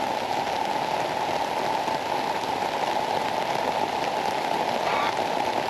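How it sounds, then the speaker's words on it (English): Rain patters steadily onto native raspberry plants in a garden, a dense, even hiss of drops that stays close and constant throughout, with no speech. "So we've just had to film in the rain."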